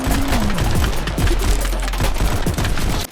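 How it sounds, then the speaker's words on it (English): Rapid bursts of gunfire from the VR shooter game Pistol Whip, dense, loud, near shots firing in quick succession throughout, with no music underneath. "You can really feel every single gunshot."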